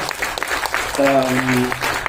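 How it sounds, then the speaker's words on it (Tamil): Applause from an event audience at an album song launch, honoring the music producers; steady dense clapping with a sung or tonal voice rising over it partway through. "ஒரு பலத்த கைத்தட்டல் கொடுத்தீங்கன்னா"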